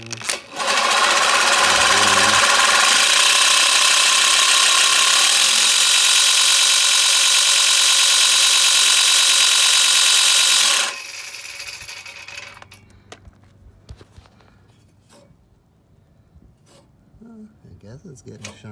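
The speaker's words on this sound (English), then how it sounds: "The easiest way I found is by using the cordless drill." A cordless drill spins a push mower blade against a sharpening stone with a loud, steady whirring grind for about ten seconds, then stops, leaving quieter scraping and handling noises.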